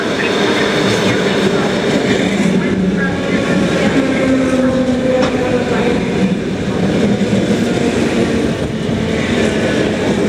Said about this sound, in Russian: электропоезд на станции Тосно прибудет в первой платформе